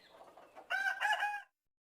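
A single rooster crows once, loud and close, after a few soft hen clucks, then silence.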